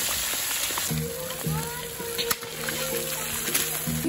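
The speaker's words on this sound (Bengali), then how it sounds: "বৌদি প্রথম শুরু করছে মাছ ভাজা দিয়ে" Sarputi fish fries in a pan over an outdoor stove at a picnic, a continuous crackling sizzle running beneath people talking nearby.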